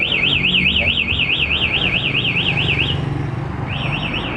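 A motorcycle's LED smart key alarm beeps loudly in a rapid warbling siren pattern, pauses briefly, then starts warbling again, over low background noise.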